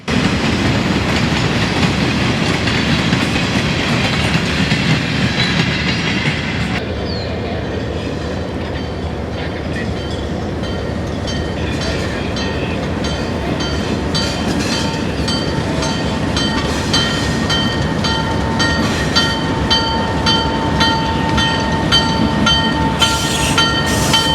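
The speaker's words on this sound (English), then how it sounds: "an EMD GP7 built in 1948, was up next, pulling the photo freight train down the main line" A 1948 EMD GP7 diesel locomotive pulls a freight train past with a steady rumble, wheels clacking and a faint metallic squeal over the constant rail noise.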